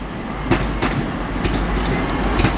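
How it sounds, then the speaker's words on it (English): A TransPennine Express Class 185 diesel unit, running from Manchester Airport to Newcastle, pulls into Manchester Piccadilly with a steady rumble and a few sharp wheel clicks over rail joints, close by with no talk. "arriving now is a Transpennine Express service from Manchester Airport to Newcastle"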